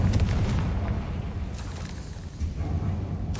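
A Confringo blasting spell explodes in the Hogwarts Legacy video game: a sustained low, rumbling boom with crackling debris that eases off and then swells again near the end.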